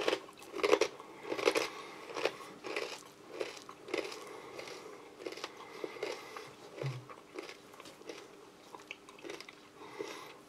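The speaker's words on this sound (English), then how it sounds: "As you can probably hear, they're very crunchy" Crunchy corn kernels from a cold-weather MRE being chewed close up, a run of sharp, crackling bites repeating roughly every half second, fairly quiet and with no voice over them.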